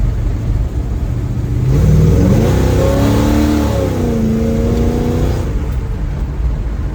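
A 1936 Chevy Coupe with a new exhaust accelerates hard, the engine note climbing loudly across several gears with pitch rises and shift dips, then settling back to a steady cruising rumble.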